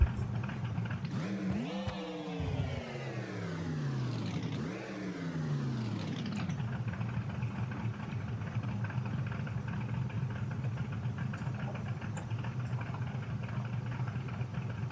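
A 3000hp El Camino engine in the BeamNG Drive driving game cranks and catches with two rising, swooping revs in the first seconds, then settles into a steady, continuous rumbling idle that carries on alone.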